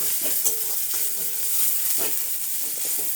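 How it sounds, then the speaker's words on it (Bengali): Onions frying with spices in a pan, a steady close sizzle with scraping stirs and a few clinks of a utensil against the pan, no talk. "পেঁয়াজটা মোটামুটি ভাজা হয়ে গেছে"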